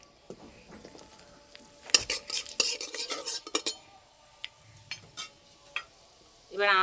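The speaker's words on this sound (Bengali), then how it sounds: "তেলে দেবো 5 ফোড়ন শুকনো লঙ্কা" Five-spice and dried chillies tempering in mustard oil in a kadai, heard as a cluster of sharp metal spoon clinks and scrapes with faint crackling sizzle, then scattered single taps in a quiet kitchen.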